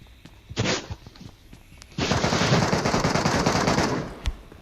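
Automatic fire from the MK1i gun in a shooter game's Metro mode: a short burst, then a longer sustained rattling volley, loud and close, with no talk over it.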